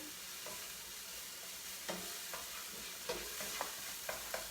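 Curry sweet potato stew being stirred in a pot, a faint steady sizzle with soft scraping and clicking strokes of the spoon spread through it, quiet and close, with no voices.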